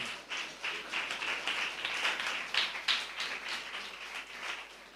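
A church congregation claps in thanks to God, a rhythmic pattern of repeated, fairly loud hand claps coming in regular pulses with slight swells.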